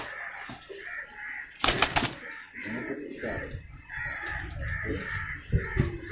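A racing pigeon named Commando held in the hand at a pigeon-flying event, its soft cooing and throaty bird calls repeating close by, with a brief burst of rustling or fluttering partway through.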